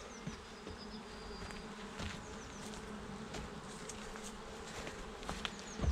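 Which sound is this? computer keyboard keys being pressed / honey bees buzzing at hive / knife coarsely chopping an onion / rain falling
honey bees buzzing at hive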